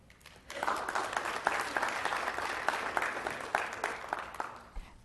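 An audience at a city council special meeting breaks into applause that swells quickly, holds as a dense, sustained wash of clapping for several seconds, then starts to taper.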